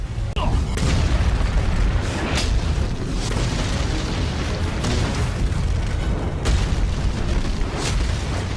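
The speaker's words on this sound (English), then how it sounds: "In fact, the explosion created knocked the team members back" Giant fireball explosions in the animated series Swallowed Star boom continuously for several seconds, a loud, dense rumble with repeated sharper bursts layered through it.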